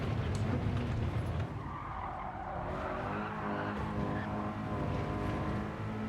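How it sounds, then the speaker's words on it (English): A race car in a racing video game drifts through the first turn, its engine droning loudly with a long tire squeal sweeping over the steady motor noise. "I want to see how much time I lost by drifting through turn 1"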